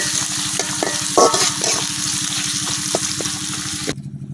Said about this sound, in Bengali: পেঁয়াজ রসুনটা কিছুক্ষণ ভাজি করে দিলাম।